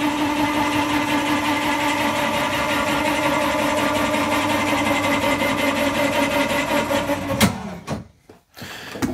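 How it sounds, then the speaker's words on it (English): On a 2023 Forest River Sierra 3370RL triple-slide fifth wheel camper, a 12-volt slide-out motor runs with a loud, steady mechanical whirr and hum for about seven seconds, then stops with a thunk and goes quiet. "When this comes in, it is again a 12 volt slide motor."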